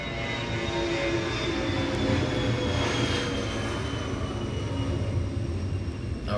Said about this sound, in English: they got a plane